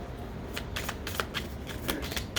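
A deck of tarot cards is shuffled by hand in a steady run of soft riffling flutters and crisp slaps that repeat through the whole stretch. The sound is close and moderately loud against a low room hum.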